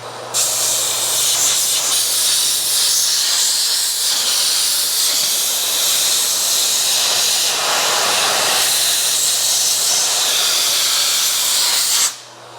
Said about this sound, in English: I'm gonna try to blow all this stuff forward with my little wand